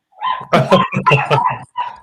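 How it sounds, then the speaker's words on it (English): Several dogs bark in quick, loud bursts close by, with yips mixed in, filling about two seconds in a home setting. "there's my dogs, guys"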